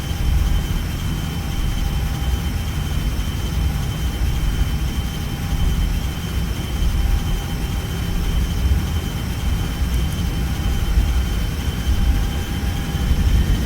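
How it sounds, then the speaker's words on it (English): Airbus A319 jet engines spool up for takeoff on runway 21 in a flight simulator, a steady, loud broadband roar with a low rumble and faint tonal whine holding constant throughout. "SRS auto thrust blue. Thrust set."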